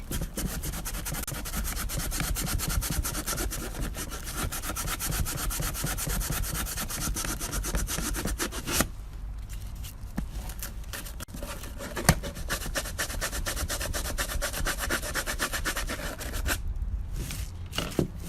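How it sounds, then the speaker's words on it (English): Continuous rough rasping of sandpaper rubbed back and forth over a wooden box, close and steady, with two brief pauses; no talking. "Now I'm just sanding it."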